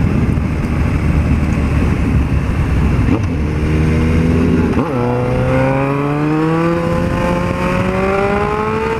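Several motorcycles from a motorcycle club ride past near a road entrance, engines roaring loudly, then one revs with rising and falling pitch as it accelerates away.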